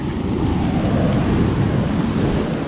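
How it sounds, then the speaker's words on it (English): Massive ocean waves at the sea in Dubrovnik, Croatia, a loud continuous roar of surf and rushing water mixed with wind buffeting the microphone, steady throughout. "Besides the fact that we have some massive waves."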